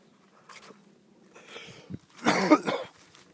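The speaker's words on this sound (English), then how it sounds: "I'm starting to cough because my lungs, sometimes they feel like they're clearing out" A person coughs once, loud and close, a short harsh burst preceded by a few quieter throat sounds in an otherwise quiet morning room.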